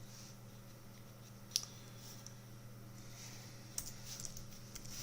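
Names typed on a computer keyboard in a quiet room, faint soft key clicks and taps at an uneven pace with a couple of sharper clacks, under a low steady hum.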